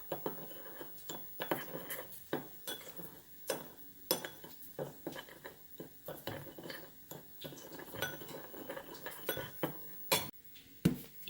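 Seasoning worked into ground beef for skillet stuffed cheeseburgers in a bowl: faint, irregular clinks and scrapes of a utensil against the dish, soft wet mixing between sharper knocks, quiet and close.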